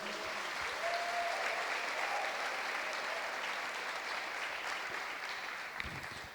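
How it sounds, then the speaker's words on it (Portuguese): Church congregation applauding steadily and loudly, a dense, continuous clatter of many hands that holds for several seconds before easing slightly toward the end. "Aplauda o nome de Jesus."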